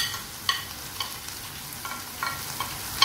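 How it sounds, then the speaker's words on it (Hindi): Tomatoes are stirred into a frying fish masala, giving a soft continuous sizzle under repeated light scrapes and taps of a spoon at an uneven rhythm, close and moderately quiet, with no talking. "टमाटर डालकर आपने इसको अच्छे से मिक्स कर लेना है"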